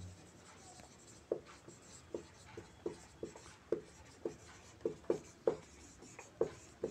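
A teacher writes on a classroom board with sharp, evenly spaced taps and scratches, about a dozen strokes in a steady rhythm. They sound close and crisp over a quiet room hum, with no talking.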